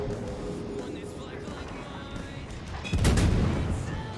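Heavy naval gunfire in World of Warships during a broadside, a dense rumbling game soundscape that swells into a louder, deeper boom about three seconds in, with players talking over it.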